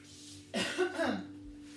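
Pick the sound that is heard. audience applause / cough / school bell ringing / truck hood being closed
cough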